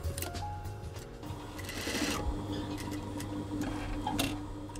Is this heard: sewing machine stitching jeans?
yes